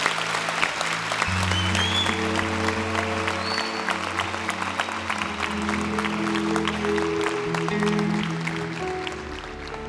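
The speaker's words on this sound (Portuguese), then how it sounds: "Pode dar uma salva de palmas para essa galera." A congregation at a Saturday night church service claps continuously and densely for the whole stretch, with sustained music tones underneath and little talk.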